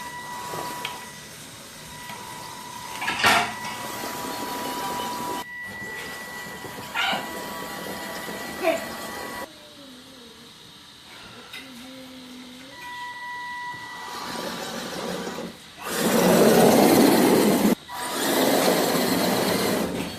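A small mini drift truck with a geared-down motor and drift tires whines across a linoleum floor, its electric motor buzzing loudly in bursts with short pauses and wheel scuffs, close by and without talk.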